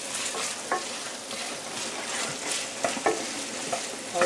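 Bacon frying and being stirred in a Le Creuset pan, a steady close-up sizzle with scattered scraping and clicking from the utensil; no one speaks.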